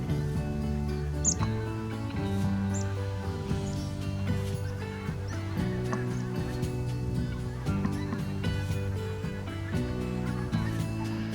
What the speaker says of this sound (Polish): Kolejne klucze gęsi lecą.